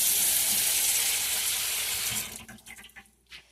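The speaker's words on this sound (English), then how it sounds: "So I always rinse my bacon off before I put it in the" Tap water runs steadily over raw bacon for a breakfast cook, a loud continuous splashing rush that cuts off after about two seconds, leaving a few soft drips and handling noises.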